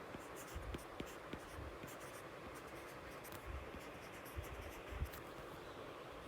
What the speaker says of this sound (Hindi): तो हम लिखेंगे अकबर वॉज